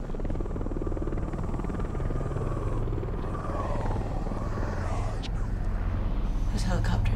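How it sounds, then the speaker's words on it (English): The low, steady chop of helicopter rotors drones throughout, with faint higher noises near the end. "Those helicopters are for you, aren't they?"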